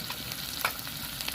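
Spice paste of chopped tomato, ginger-garlic paste, cumin paste and turmeric frying in a pan with a splash of water, giving a soft continuous sizzle and light stirring clicks, close and fairly quiet, with no voices.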